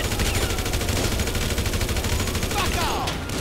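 Rapid, continuous bursts of GTA V Online gunfire on PC rattle loudly and steadily throughout, with faint voices underneath.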